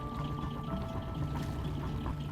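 A J88 sailboat's engine runs steadily at raised revs, a loud continuous drone with a splashing, watery wash underneath and no voices.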